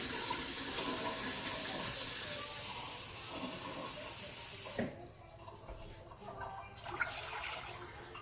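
Water pours steadily into a pan on the stove for cooking quinoa, a loud continuous rushing stream lasting about five seconds, then stopping and leaving quieter clinks and faint handling sounds.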